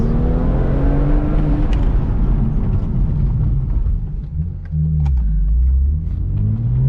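A race car being driven to bed in its brakes, a loud steady engine rumble with low droning tones that shift in pitch as it accelerates and slows, dipping briefly near the middle before rising again.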